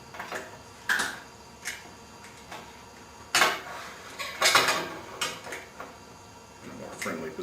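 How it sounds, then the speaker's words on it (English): A steel plate being flipped and reclamped on a welding table for TIG welding, scattered metallic clanks, knocks and scrapes at uneven intervals, a couple of louder clatters, fairly close with quiet gaps between. "I'm going to flip the plate around and we're going to reclamp it"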